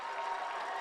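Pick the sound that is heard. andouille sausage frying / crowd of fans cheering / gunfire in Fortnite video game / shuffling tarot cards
crowd of fans cheering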